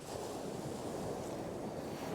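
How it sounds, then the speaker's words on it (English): Surf rolling in and breaking over a sandbank about 40-50 yards offshore on a North Norfolk beach at Walcott, heard as a steady broadband wash with wind noise, continuous and without pauses. "Waves are rolling in nicely off the sandbank out there."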